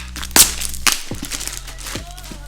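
Packaging for an Xtron 8.8-inch Android double-din car radio being cut open up close, with a few sharp crinkles and crackles of plastic and cardboard amid quieter rustling, with a voice speaking briefly.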